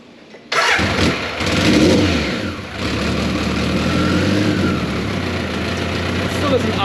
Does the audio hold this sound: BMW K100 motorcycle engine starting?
yes